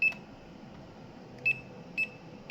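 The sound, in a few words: buzzer sounding from burnt electric meter base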